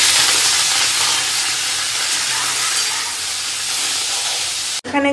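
Potatoes frying in a home kitchen pan, a loud, steady sizzling hiss that carries on for about five seconds before cutting off abruptly near the end.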